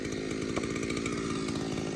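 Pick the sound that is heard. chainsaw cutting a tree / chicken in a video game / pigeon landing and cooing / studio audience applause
chainsaw cutting a tree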